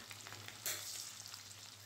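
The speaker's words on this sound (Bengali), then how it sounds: "আর দেখো আমি পকোড়াগুলো ভেজে নিচ্ছি" Pakoras fry in hot oil with a soft steady sizzle and a brief louder crackle, faint and close, no voices.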